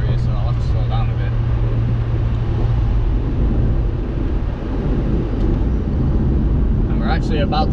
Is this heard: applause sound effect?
no